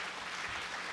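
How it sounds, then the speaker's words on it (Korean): A church congregation at a Sunday worship service claps to welcome a new accompanist for the second service and the Zion choir: a dense, steady patter of many hands, fairly soft and even throughout, with no voices over it. "이은주 성도님 한번 일어나시면 우리 박수로 환영하겠습니다."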